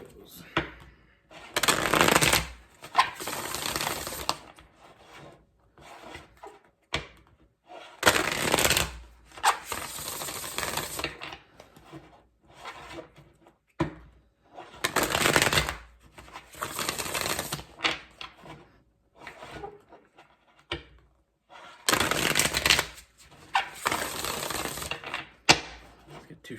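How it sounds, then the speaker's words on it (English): Tarot cards are riffled and shuffled in several quick bursts of crisp flapping, separated by pauses and soft handling noise, close and fairly quiet. "Let's get 2 shuffles for Leos."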